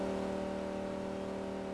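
A loud, steady car engine in the video game Farming Simulator drones at high revs throughout, a constant roaring hum with no pauses.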